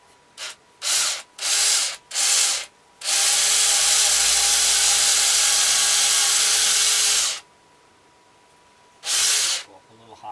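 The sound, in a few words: drilling a hole in a wooden ventriloquist dummy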